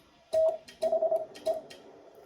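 A clean Morse code tone spells the word "the": one long dash, then four quick dots, then a single short dot. Quiet gaps sit between the letters, and there is no talking.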